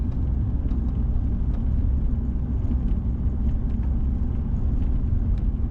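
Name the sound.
Turbo Coupe car accelerating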